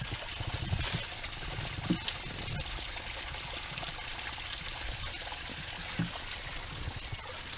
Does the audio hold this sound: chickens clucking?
no